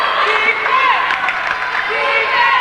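A home crowd at a women's college basketball game in a gym reacts to a foul call with a sustained murmur and scattered cheering, sneaker squeaks rising over it and an announcer talking on top.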